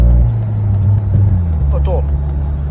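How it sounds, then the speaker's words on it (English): Manual Golf R with a swapped gearbox downshifting from sixth to fourth, a steady low engine drone with a brief shift in pitch midway, heard from inside the car while people talk. "So this car is downshifting from 6 to 4"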